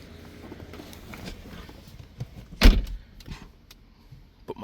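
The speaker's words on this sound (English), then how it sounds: "Proximity works, unlocks the door." A 2010 Mercedes-Benz E350 door unlocks by proximity smart key, giving one sharp, close mechanical clunk mid-clip over faint ambient noise, with a few softer handling sounds around it.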